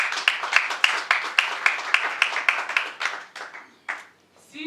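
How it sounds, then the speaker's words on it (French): A small group at a women's activism event claps in a rhythmic, evenly spaced beat, close and distinct, loosening into scattered claps before stopping near the end. "Alors on applaudit les femmes."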